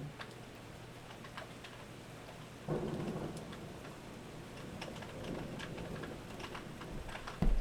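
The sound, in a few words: rain falling with thunder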